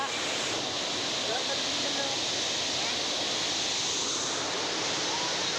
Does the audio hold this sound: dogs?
no